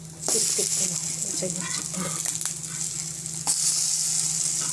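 Eggplant slices fry in a little oil, giving a bright continuous sizzle with occasional crackles and brief spatula scrapes, close and loud from start to finish.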